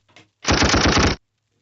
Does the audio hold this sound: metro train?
no